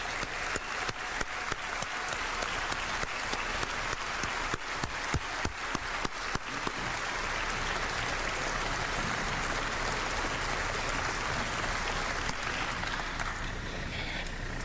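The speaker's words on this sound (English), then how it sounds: "they certainly deserve a round of applause for all they accomplished" Sustained applause from an audience at the introduction of a new head basketball coach for the Vols, dense clapping that holds steady for the whole stretch, with sharper individual claps early on and no talk over it.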